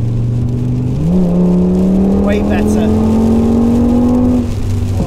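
A 900bhp Audi RS6 pulls hard in the rain, its engine note climbing steadily in pitch as it accelerates, loud and close inside the cabin, with a person speaking over it partway through.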